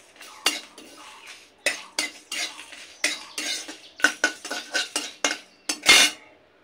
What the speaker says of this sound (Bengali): এই সমস্ত মশলা একসাথে ড্রাই রোস্ট করে নেব